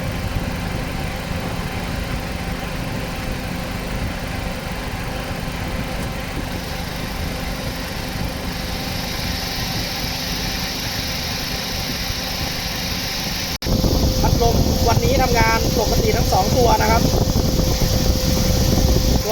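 A Suzuki Ciaz engine idles with a steady hum and a fan's whoosh after a new air-conditioning compressor clutch is fitted, then a louder blower kicks in near the end, adding a rushing air roar.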